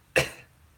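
A single sharp cough bursts out close to the mic from an adult, then trails off into quiet room air.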